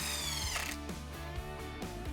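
Power drill driving a 2.5-inch screw through a pilot hole into wooden garden-bed posts, a close, strained motor whir with rhythmic stuttering bursts as the screw bites and advances, alone.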